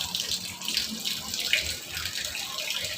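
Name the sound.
filling a pot with water from the tap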